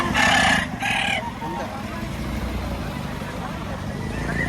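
Rooster crowing twice in quick succession at a busy chicken market in Batangas, loud and close, over a steady crowd and traffic murmur with voices around.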